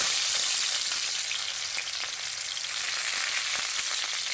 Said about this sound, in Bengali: প্রথমেই দিয়ে দেবো আদা রসুনের পেস্ট